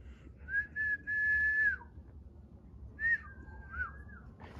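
A person in a cemetery whistles in reply, two separate long whistled tones a second apart, each steady then bending down at the end, clear and fairly near over a low rumbling background.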